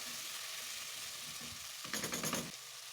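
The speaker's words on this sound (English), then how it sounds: "Adding tomatoes, give it a good mix." Tomatoes being stirred into a pot of simmering vegetable soup, a soft wet scrape and sizzle that swells into a louder burst of stirring for about half a second before settling back, with no talking.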